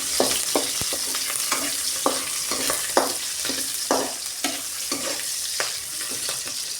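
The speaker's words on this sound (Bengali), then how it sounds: "নেড়ে দেবো ভালো করে, রসুনটাকে ভেজে নেবো।" Garlic and green chili frying in a pan for red amaranth greens, with a bright continuous sizzle broken by regular stirring scrapes and spatula taps, loud and close.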